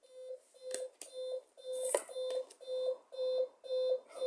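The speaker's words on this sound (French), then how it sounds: "Deuxième réveil qui sonne." An alarm clock rings in a regular beeping pattern, about nine evenly spaced electronic tone bursts at moderate level, one brief extra click partway through, no talk.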